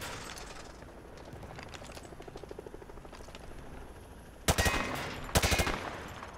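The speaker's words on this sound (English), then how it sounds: "Grab that weapon off the table and fire at the targets behind you." Weapon fire at range targets in the video game MW2 Remastered: a rattle of rapid shots, then two loud close bursts of automatic gunfire near the end.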